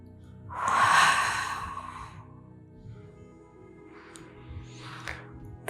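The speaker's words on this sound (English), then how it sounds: "Breathe out." A single long exhale through the nose during a pelvic floor reverse Kegel exercise, a breathy rush that swells and fades over about a second, followed by softer, fainter breath sounds.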